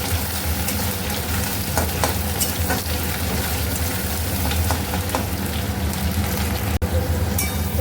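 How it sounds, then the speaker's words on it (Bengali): Dried fish (shutki) frying in hot oil in a home kitchen, a loud, continuous close crackling sizzle with occasional stirring scrapes and one brief break near the end. "এখন তেলটাকে ভালো করে আগে গরম করে নিই তো চলো এখন শুটকি মাছটাকে ভেজে নিই"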